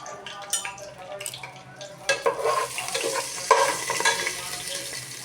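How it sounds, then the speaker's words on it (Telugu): Whole spices such as shahi jeera fry in oil for a coconut-milk chicken biryani, a few utensil clinks first, then a rising crackling sizzle with stirring scrapes up close. "ఇంకా అన్ని చెక్క వేసుకున్నామండి. ఇది వేగనిద్దామండి."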